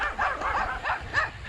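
A crowd of small toy dogs yapping and yipping together, overlapping high barks in quick bursts, close and busy, with no talking over them.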